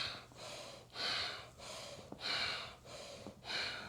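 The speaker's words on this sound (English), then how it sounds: "I'm breathing through the left nostril, right nostril, left nostril, right nostril." Alternate nostril breathing during a calming self-awareness practice, with audible breaths drawn in and pushed out through one nostril at a time. Close, soft airy inhales and exhales repeat in a steady rhythm of about four cycles, with no talking.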